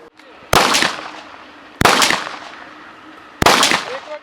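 Three sharp gunshots from training fire at a shooting range ring out a second or so apart, each with a short echoing tail, outdoors with quiet between them.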